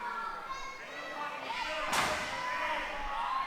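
A single heavy body slam lands in a wrestling match, one sharp loud impact in the middle with crowd noise and voices around it.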